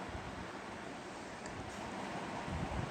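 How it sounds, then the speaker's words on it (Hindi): Steady rushing water, like waves or a fast stream, fills the whole stretch as an even, continuous wash with no breaks and no voices. "तो जहां पानी गिरता है या उसकी लहरें चलती हैं तेज, तो उन लहरों से एक आवाज सी आती है, कलकल की आवाज आती है।"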